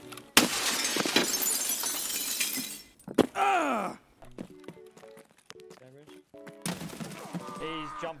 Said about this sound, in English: He fucking broke the glass like an idiot.